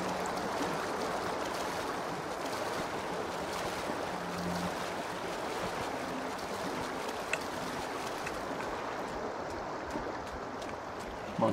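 Steady broadband rush of flowing water, loud and continuous, with a hollow low rumble as if echoing under a structure.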